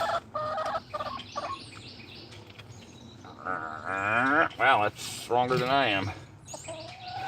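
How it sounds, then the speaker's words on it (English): A chicken clucks and squawks close by, in several loud bursts, while someone talks over and between the calls. "freaking super spy chicken, freaking trying to peck me in the eyeballs"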